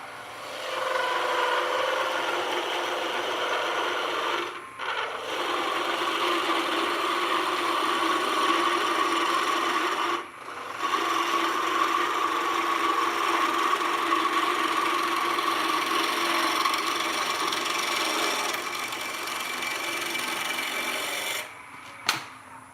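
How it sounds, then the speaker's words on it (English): A steady, close scraping hiss of a spindle gouge cutting wood on a spinning lathe, continuous with a motor hum underneath and a few brief breaks where the tool lifts off. "Switching to my spindle gouge for the final cut."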